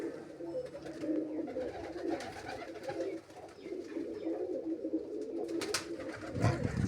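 Red Cheena pigeons coo softly in a loft, low rolling coos repeating under a busy, faint background of rustling and other birds, with a sharper noise near the end.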